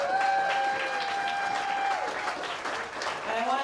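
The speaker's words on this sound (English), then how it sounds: "Let's give them a round of applause." Audience applause at a bar during a political town hall in Davenport, Iowa, steady and full across the whole stretch, with voices mixed in and a few tonal sounds riding over the clapping.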